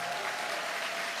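An audience at a corporate achievers' day event claps steadily in dense, loud applause that fills the whole moment, with no voices over it.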